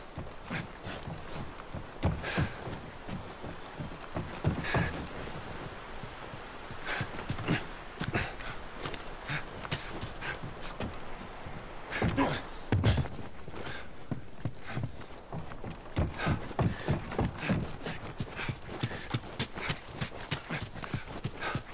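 Steady clip-clopping of horse hooves in the video game The Last of Us Remastered, a continuous trotting rhythm close by, with no talking over it.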